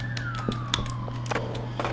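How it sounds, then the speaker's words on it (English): Police siren in the video game Schedule 1, a steady wailing tone sweeping slowly downward, fairly close and loud over a low constant hum, with scattered clicks and short game sounds around it. "Is that siren right next to me or something?"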